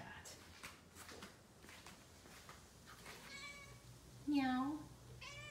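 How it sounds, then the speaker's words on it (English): A cat meows near the end, close and loud, with softer chatty meows just before, while a person talks quietly throughout in a garage setting. "Funny alley cat."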